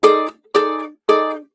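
Three strummed ukulele chords in harmony, each ringing about a third of a second with short gaps between, clear and close with no talking.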